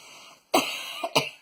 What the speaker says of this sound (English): Get a few coughs out of there.